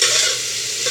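Cooked, softened meat tipped into a hot pan of spiced cooking for a frontier-style Peshawari dish, giving a steady loud sizzle with stirring scrapes throughout.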